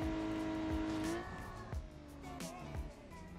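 An Opel Astra car driving in the video game BeamNG.drive, a steady engine hum with a falling tone and faint tire noise, moderately loud and continuous.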